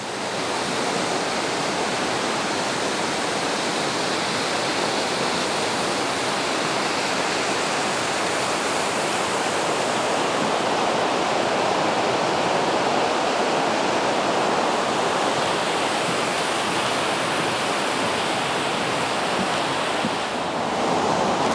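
Constant roaring rush of a waterfall in the Osugi Valley, Japan, loud and unbroken throughout, with a broad windy hiss and no voices.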